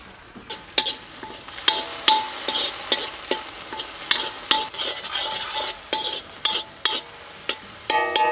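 Vegetables for a street-style veg Manchurian frying in a pan, with steady sizzling under repeated scraping stirs of a metal spoon, close and moderately loud throughout.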